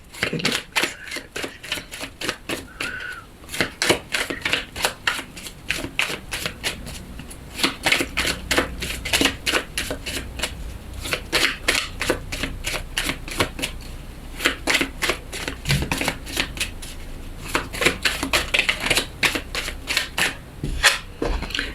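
A deck of oracle cards is shuffled continuously at close range, producing rapid riffling flutters and soft slaps that run loud and steady throughout with no voice on top.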